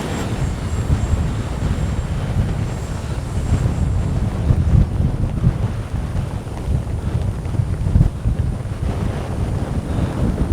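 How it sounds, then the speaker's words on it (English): Strong wind buffeting the microphone at a remote-control jet flying field, a continuous loud rumbling roar that rises and falls in gusts for the whole stretch, with no voices. "A little too windy."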